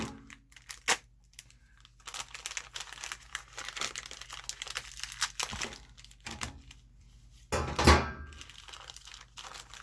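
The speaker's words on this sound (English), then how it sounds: "So now we gotta cut open the bag." A plastic bag of washing machine parts for a Kenmore Series 90 washer is cut open up close, giving crinkling and crackling bursts with a louder tearing rustle near the end, alone without speech.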